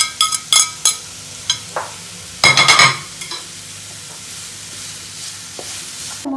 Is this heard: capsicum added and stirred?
yes